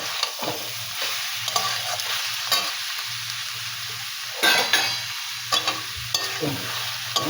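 Kalmi saag greens and eggplant are turned over in a frying pan. A steady sizzle runs throughout, and intermittent spatula scrapes and taps against the metal sound close and clear.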